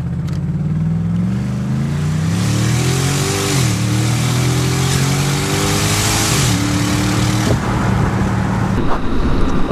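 A loud, raw 2011 Infiniti M56x engine revs up and down repeatedly with no exhaust, its pitch rising and dropping in several surges, harsh and unmuffled, close by.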